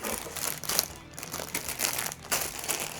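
Plastic packaging bags from a LEGO Technic 42229 Mitsubishi Eclipse set crinkle and rustle continuously at close range, with a few louder crunchy bursts and no talking.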